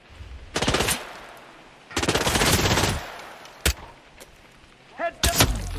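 Bursts of automatic gunfire from a Hitman 3 firefight on PS5: two long rapid volleys, then a sharp single shot and a final short burst, loud and close against a quiet background.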